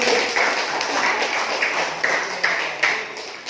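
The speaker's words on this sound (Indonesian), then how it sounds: "Tepuk tangan dulu." Classroom applause from a group of students, a steady patter of many hands clapping at close range for a few seconds.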